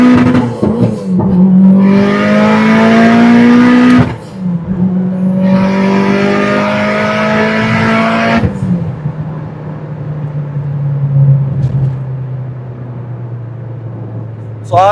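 A 600 bhp 2004 Mitsubishi Evo 8 MR street build accelerates hard under turbo boost, the engine climbing in pitch through two loud pulls with a gear change, then easing to a lower drone.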